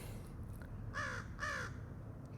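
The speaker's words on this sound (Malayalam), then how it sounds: "എൻ്റെ കാക്കേ നീ ഇവിടെ വന്നോ," Crow cawing outdoors: two clear harsh caws about half a second apart, moderately near over quiet background hum, no talk.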